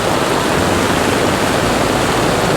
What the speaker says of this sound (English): we can see the rush of water